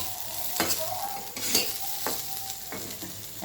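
Pointed gourd peels fry in a pan and get stirred, with a steady close sizzle broken by sharp scraping strokes about every half second and no talking.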